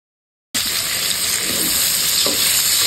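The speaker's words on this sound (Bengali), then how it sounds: "আমি এখন সবগুলো মাছ ছেড়ে ভেজে নেব, একটা একটা করে হালকা ভেজে নেব" Prawns sizzle steadily in a hot pan for a light fry, a loud, dense hiss that starts abruptly and continues without a break.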